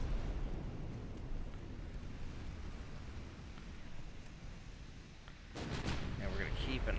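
Naval artillery fire in Ultimate Admiral Dreadnoughts, a rumbling barrage of distant booms blending into a continuous low roar, with sharper crackling reports toward the end.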